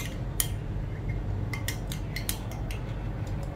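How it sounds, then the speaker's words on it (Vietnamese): A metal spoon clinks against a glass while stirring a celery powder detox drink, with a few sharp ringing taps scattered over a low steady background hum, quiet and close with no talking. "Chúng ta khuấy đều lên."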